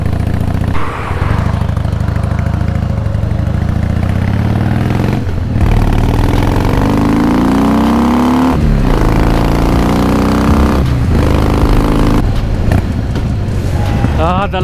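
A Harley-Davidson motorcycle rides along a country road with a continuous loud engine drone, shifting pitch as it slows down and accelerates, with a few brief dips in the rumble.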